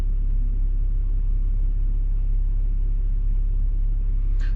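Dover's one-way system jammed solid with lorries gives off a constant low diesel rumble and road drone, near and unchanging, with a brief higher scrape or hiss right at the end and nobody talking.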